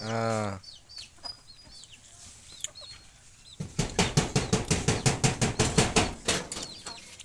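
On a hen farm, a chicken gives a loud cluck up close and then softer calls sound around. A quick, regular run of clucking pulses follows and keeps going to the end.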